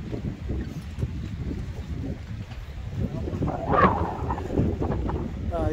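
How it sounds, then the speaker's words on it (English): Gusty wind blowing across a fishing pier at Lorne, a low buffeting rumble on the microphone that swells and fades, with faint voices in the background. "It's just a bit windy,"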